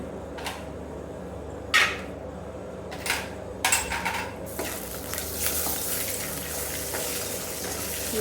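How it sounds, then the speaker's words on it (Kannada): Cashews and raisins fry in hot ghee for a traditional Karnataka-style moong dal payasa, giving a steady soft sizzle broken by a few sharp clinks and scrapes of stirring in the pan, with no one talking. "ಗೋಡಂಬಿ ಮತ್ತು ಮನುಕನ್ನ ತುಪ್ಪದಲ್ಲಿ ಹುರ್ಕೊಳ್ಬೇಕು."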